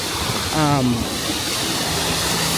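A small waterfall at a Disney resort hotel keeps up a steady, broadband rush of splashing water, with a brief voice rising above the constant wash partway through.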